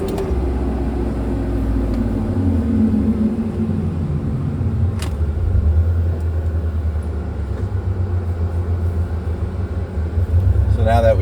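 A tuned street car pulls hard at full throttle and keeps going up through the gears, its loud engine roar rising and dropping in pitch across the shifts.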